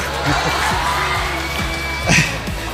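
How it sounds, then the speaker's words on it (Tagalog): A large community crowd at a public gathering claps and cheers loudly, a thick wash of hands and raised voices with whoops, building to a brief louder swell near the end. "Naku, malakas ang palakpak niyo."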